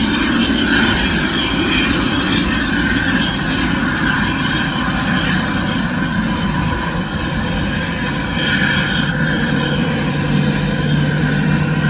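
A large airplane taxis toward takeoff at an airport in Laos, its engines giving a loud, steady roar and whine close by that holds without pause and with no voices.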